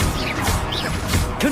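A spell being cast in the Hogwarts Legacy video game: a brief whooshing magical burst with a crashing, whacking impact, loud and close, without talk.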